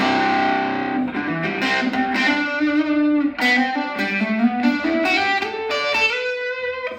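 A black Schecter Diamond Series PT solid-body electric guitar rings out a run of sustained, warm notes through effects, each note blooming and decaying into the next, loud and alone.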